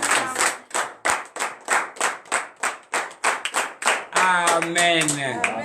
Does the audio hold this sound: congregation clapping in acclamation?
yes